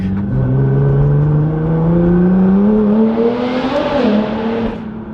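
A Nissan GT-R R35 with a flex-fuel setup revs and drives on a damp road in the dark, its engine note climbing steadily and loudly, then peaking and dropping as the car moves off.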